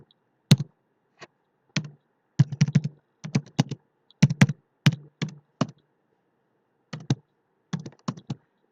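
Computer keyboard keys tapped in short clustered bursts with pauses between, crisp and close in a quiet room, while HTML code is entered in Notepad++.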